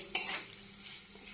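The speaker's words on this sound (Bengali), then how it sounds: "এটা কাঁচা চিড়ে, এটাকে ভাজছে এখন তেল দিয়ে।" Raw flattened rice (chira) frying in oil in a pan while being stirred, giving a close, steady sizzle with a sharp scrape of stirring near the start.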